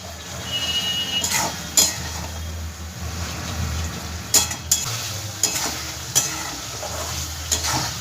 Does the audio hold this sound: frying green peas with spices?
yes